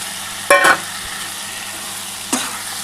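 Boiled mutton tipped into a pan of fried spice masala, giving a brief clatter and sizzle burst, then a steady faint frying hiss and a second short stir or scrape near the end.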